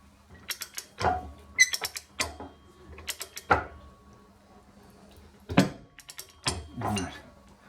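A powered lathe slotter cutting metal on a home-built machine, giving several separate clanking, creaking strokes with pauses between them, close by and without speech.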